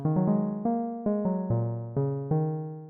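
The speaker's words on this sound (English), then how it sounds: "I've tried to make kind of a harp sound." Harp-like synth keys from a Vital preset pluck a quick, gentle run of notes, each one ringing warmly and decaying before the next.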